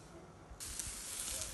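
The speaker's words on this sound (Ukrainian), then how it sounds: "Шашличок смажиться, запах димку, м'яска, шкварчить, шипить." Shashlik meat cooking on an outdoor grill, a soft steady hiss and sizzle that jumps louder after a moment and continues quietly, with no talk over it.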